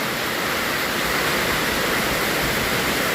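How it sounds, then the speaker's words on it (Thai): Heavy, steady rain hisses continuously with the rush of flowing water, a dense broadband roar that stays loud and even throughout. "ฝนตกอีกแล้ว ตกได้ ตกดี"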